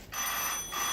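A mobile phone rings indoors, its electronic ringtone sounding loud and close in a steady repeating pattern across the whole second, with no speech over it.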